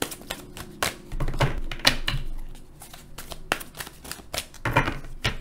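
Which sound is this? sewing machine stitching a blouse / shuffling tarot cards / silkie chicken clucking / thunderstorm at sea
shuffling tarot cards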